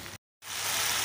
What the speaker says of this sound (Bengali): তখন একটু ভাজা হোক।